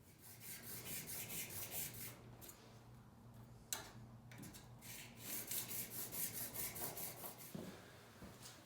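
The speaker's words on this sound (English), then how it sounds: "I'm going to take it to my finest sharpening stone, and I'm going to just flatten that burr that lifted up off." A steel woodworking card scraper is rubbed flat across a fine sharpening stone to flatten its burr, giving quiet rhythmic back-and-forth rasping strokes, close and faint, with a single brief click partway through.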